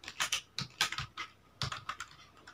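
Keys clatter on a computer keyboard in short irregular bursts of taps with brief pauses, close and quiet, with no talking.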